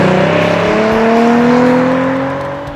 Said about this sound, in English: Every little press of the throttle is met with a notable increase in forward velocity and sound effects.